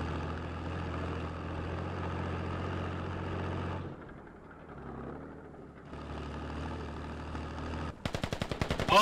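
Gunfire in the military shooter Squad, a steady loud rumble of battle with engine-like drone that dips briefly, then a rapid burst of sharp automatic shots near the end.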